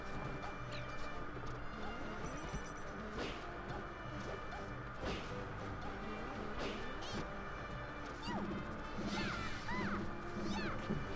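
A Super Smash Bros. match plays out with Ice Climbers-style down smash attacks: repeated sharp crashing hits and thwacks burst out over busy game music and effects, several in quick succession, with faint chatter in the background.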